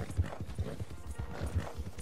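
Horse hooves gallop in the Red Dead Redemption 2 Online video game, a steady rapid clip-clop of thudding hoofbeats continuing throughout at close range.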